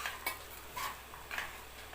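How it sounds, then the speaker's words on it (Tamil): Beans, carrots and peas sauté in a pan with a faint, steady sizzle and a few soft scrapes of stirring, quiet and close. "வெஜிடபிள்ஸ் எல்லாம் போட்டுட்டு இதை ஒரு 10 நிமிஷத்துக்கு நல்லா வதக்க விடணும்."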